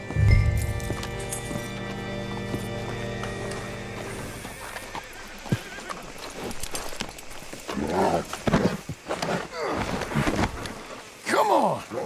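Horse hooves clip-clop in Red Dead Redemption 2, irregular bursts of steps growing louder toward the end, mixed with other game sounds and brief talk.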